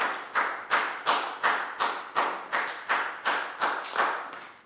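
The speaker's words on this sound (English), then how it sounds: "High five and a big round of applause for Dan" A classroom of Year 4 students claps for a classmate after a math lesson, about ten sharp, evenly spaced claps, close and loud with no talk.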